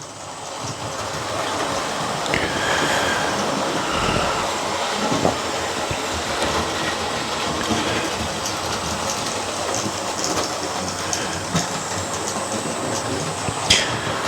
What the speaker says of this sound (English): we're going to watch this locomotive put into the station in just a moment